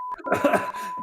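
A steady, loud censor beep tone runs the whole way through while a person speaks over it.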